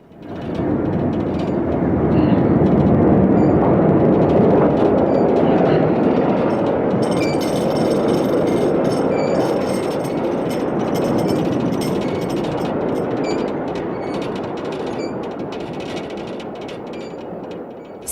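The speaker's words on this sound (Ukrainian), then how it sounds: "Щоночі їх будять електрички, товарні та пасажирські потяги." A train passes close by residential homes, a loud steady rumble and rattle of wagons rolling along the rails, with metallic clattering emerging toward the end, lasting the whole stretch.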